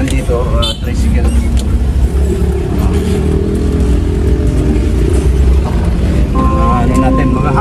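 Tricycles, motorcycles with sidecars, rumble along a road near Mactan, their engines droning loudly and continuously up close while people talk over the traffic.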